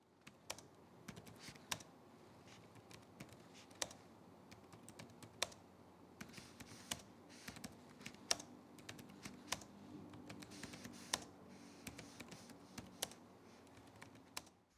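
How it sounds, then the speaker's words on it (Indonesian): Steady typing on the chiclet keyboard of an HP Omen 16 gaming laptop, quiet, close, irregular key taps in quick runs with occasional firmer strokes, no voices. "ini dia deh typing test dari keyboard laptop ini"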